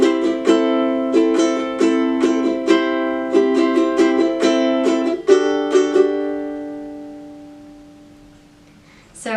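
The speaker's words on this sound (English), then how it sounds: "here's what the second part of the chord progression sounds like" Bright ukulele strums chords in a steady rhythm, changing chords several times before the last one rings out and fades.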